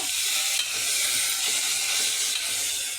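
Ingredients for mutton keema curry fry in an AMC cookware pot, a continuous close sizzle with light stirring texture and no speech over it.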